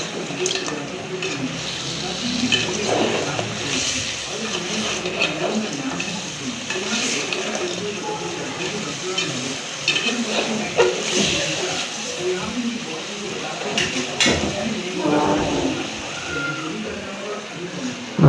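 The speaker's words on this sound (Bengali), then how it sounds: "আলুটা দিয়ে আমরা আবার কিছু সময় কষাই নেব" Goat head meat stir-fried with potatoes in a pot over a village cooking fire: soft sizzling and the scrape and clatter of a spoon against the pot recur throughout, with a person speaking intermittently over the cooking.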